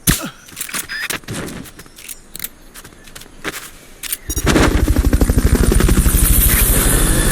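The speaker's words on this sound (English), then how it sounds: "Fulton recovery helicopter is complete." Helicopter rotor chopping in the video game Metal Gear Solid Peace Walker grows loud and steady after assorted clicks and bursts, a rapid thudding pulse dominating the second half.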